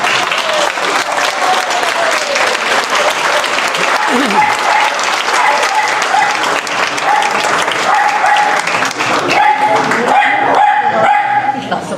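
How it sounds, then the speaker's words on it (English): Sustained clapping from a crowd fills the scene, while a dog barks and whines over it and voices mingle. "Can you just stand up and give them lads a clap?"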